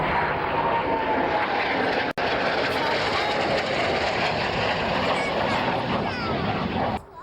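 A Hawker Hunter jet making a low approach at an airshow: a loud, continuous broad engine roar and rush held throughout, briefly cut once, with a commentator's voice mixed in.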